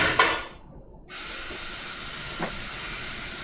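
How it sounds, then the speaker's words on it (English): A covered pot left on low heat, a steady hiss of steam under the lid running evenly and close by, with a brief soft clatter near the start and a small knock partway through. "turn this on low heat and let it simmer"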